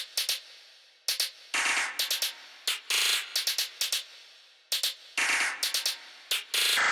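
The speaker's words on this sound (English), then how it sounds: "next I added a hi-hat and I kept the pattern really simple." A simple, repetitive hi-hat pattern sits in a dark glitchy beat, with crisp clustered ticks and longer open hits repeating in a tight loop and played alone.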